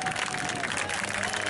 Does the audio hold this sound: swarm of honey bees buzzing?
no